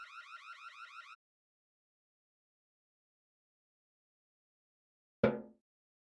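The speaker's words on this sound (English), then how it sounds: "I suggest for now leaving this place and thinking about how to turn off the alarm." An alarm from the video game Bad Dream: Fever gives a rapid run of repeated beeping pulses that stops short, followed after silence by a single sharp thud.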